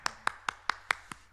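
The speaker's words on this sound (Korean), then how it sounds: "우리 감사와 영광의 박수 올려드리겠습니다" Hands clap in a church worship service: seven crisp, evenly spaced claps in a quick, steady rhythm, close and clear.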